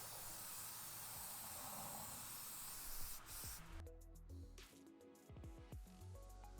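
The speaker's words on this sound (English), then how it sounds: "I'll hit this with some spray paint to make it blend in into the landscape" A spray paint can hisses steadily for about three seconds, then stops, followed by a few light clicks and rattles nearby.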